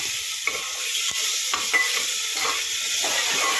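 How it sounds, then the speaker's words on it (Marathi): Tomato and ginger-garlic paste stirred in a hot pan, a steady bright sizzle of frying with intermittent scraping strokes of a spoon against the pan, close and continuous with no talking. "टोमॅटो हलवून घ्यायचं. आलू होती. आलं लसूण"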